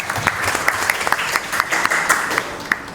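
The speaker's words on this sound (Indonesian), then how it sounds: "beri tepuk tangan buat Aulia" Classroom applause for a student, a group of pupils clapping steadily and fairly close in a room, brisk and unbroken for a few seconds.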